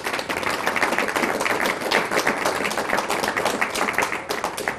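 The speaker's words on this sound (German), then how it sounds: "Und Sie können ruhig klatschen." An audience applauds after a lecture, dense and sustained clapping from many hands that fills the whole stretch at a steady, fairly loud level with no talk over it.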